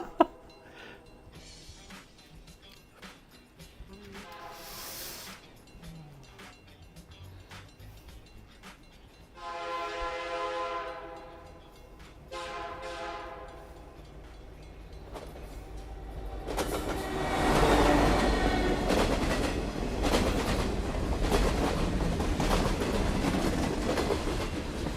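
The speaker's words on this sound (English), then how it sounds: "Ooh, hype train." A Twitch hype-train alert sound effect: a train horn blares in two long calls over rumbling rail noise, then the rolling, clattering rush of a passing train swells louder toward the end.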